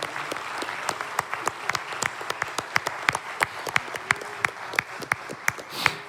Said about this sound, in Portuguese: Uma salva de palmas ao Senhor da glória